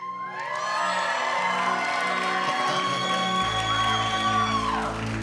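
Church congregation at a Sunday service shouting praise and cheering, a loud sustained roar of many voices with whoops and a low musical drone underneath, holding steady before cutting off abruptly.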